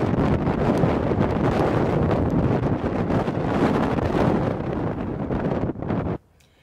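Strong wind gusts batter the microphone by the sea at a winter RV campsite on Vancouver Island, a loud continuous roar and rustle that cuts off abruptly near the end.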